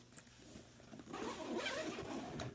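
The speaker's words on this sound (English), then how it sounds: "Everything zips up real nice, very secure." A zipper is pulled closed on a Kemimoto saddle bag fitted to a Honda Navi. It starts with a quiet, soft scratch, then gets louder as a longer, rasping zip near the end.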